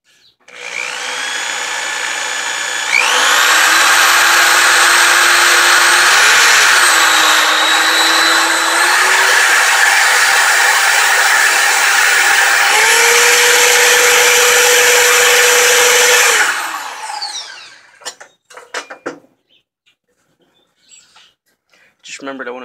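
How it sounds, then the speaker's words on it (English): A power drill runs steadily for about thirteen seconds with a loud whining motor tone that shifts pitch a few times, then winds down into a few faint clicks and handling sounds. "let's start drilling."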